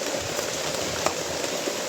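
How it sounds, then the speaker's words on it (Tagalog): Heavy rain falls in a steady, dense roar that masks everything else, with a few slightly louder drops or splashes standing out against the constant wash outdoors. "kasi malakas yung ulan"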